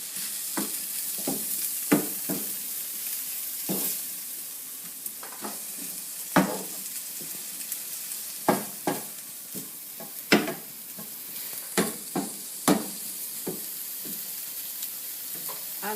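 Prawn and seafood Chinese noodles stir-fried over high heat, a steady sizzle broken by repeated sharp clinks and scrapes of the utensil against the pan at an irregular rhythm, close and with no talk.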